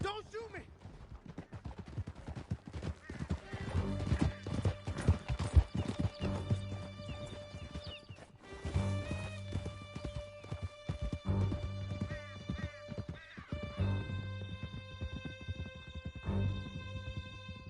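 Horses galloping with rhythmic clip-clop hooves and occasional whinnies while riders flee through a canyon in Red Dead Redemption 2, steady and close under a game music bed, with distant gunfire and voices talking over it.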